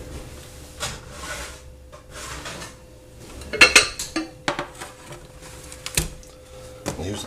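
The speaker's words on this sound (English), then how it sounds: "So let's pull that pan out of the oven." A blazing hot Pyrex glass dish taken out of a 500-degree oven, with a few sharp clinks and clatters of glass and metal against faint background hiss.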